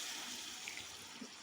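Water poured into a pan of frying masala with brain, a faint, steady hiss and splash of liquid hitting the hot pan, heard alone.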